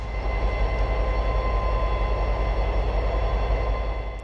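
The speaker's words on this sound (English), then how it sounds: "a helper set came out of Altoona and was ready to push the stalled train over the mountain" Diesel helper locomotives, SD40Es rebuilt from Norfolk Southern SD50s, pushing a stalled train up the mountain near Altoona, a loud, steady engine drone and rumble with no pause.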